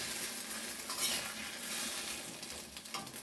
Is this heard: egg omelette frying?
yes